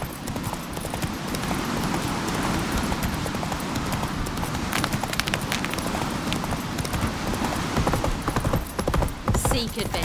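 Hooves of a horse clip-clop at a gallop in The Witcher 3, a steady rapid beat over continuous game ambience and music, with spoken dialogue in places.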